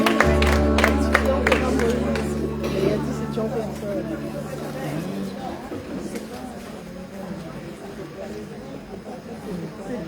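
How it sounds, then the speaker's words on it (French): Applause for brother Maman as he receives gifts at a church celebration evening. Clapping and crowd chatter rise under a loud voice and background music, then settle into a lively murmur. "Allez, un bon applaudissement. Allez, viens. On applaudit frère Maman."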